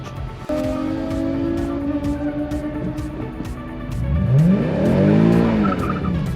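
A Nissan M56 race car launches at a half mile race, tires squealing and engine roaring as it pulls away and passes close, loud and alone.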